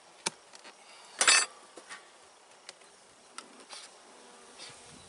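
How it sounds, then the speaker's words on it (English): Agitated queenless honeybees buzz in short, scattered bursts close by, with faint clicks and ticks in between and no voices. "There's a lot of bees I can hear. Angry, agitated, there's no queen."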